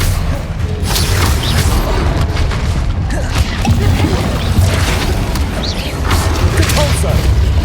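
Confringo fire spells blast in Hogwarts Legacy amid loud, busy combat, with repeated sharp bursts and crackling impacts over a dense mechanical clatter, and a voice is heard intermittently beneath the action.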